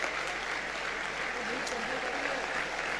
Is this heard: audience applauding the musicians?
yes